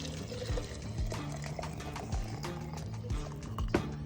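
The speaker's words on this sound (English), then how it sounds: "Take your mixture, pour it into the jar." Pickle brine mixture is poured into a jar, making a steady liquid splash and gurgle with a few small knocks mixed in. The sound is continuous and fairly quiet, close by, and nobody speaks.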